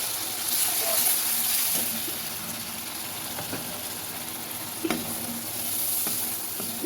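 Spices, garlic and oil sauté in a pan for a Chittagong-style curry of taro stolons and dried shrimp, making a steady close sizzle with a few sharp scraping stirs and a soft voice now and then.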